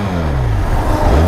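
A car fitted with a Whitehorse aftermarket exhaust revs close by, its loud engine note rising and falling in pitch over a short burst, with no voices.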